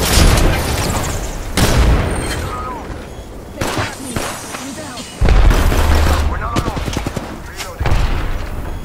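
Frag grenade explosion and gunfire in the Apex Legends shooter game, with loud booming bursts and shots recurring across the scene amid heavy combat noise, while game character voices talk over the action.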